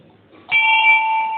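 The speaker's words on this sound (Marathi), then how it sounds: "आणि आता घंटी वाजून जाऊ एकदा." A single temple bell is struck once, close and loud, then rings on with a clear, steady, sustained tone.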